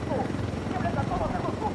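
A helicopter maneuvering in a video game, its rotor a continuous low droning thrum that holds steady and fairly loud throughout the short stretch.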